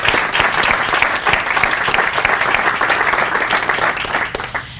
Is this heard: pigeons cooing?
no